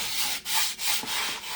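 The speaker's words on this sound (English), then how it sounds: "I'm just giving it a light little sanding here" Light sanding across a white-painted wooden reindeer sign streaked with Dune and camel chalk paint: close, dry abrasive strokes in a steady back-and-forth rhythm, three brief pauses between passes, no talking.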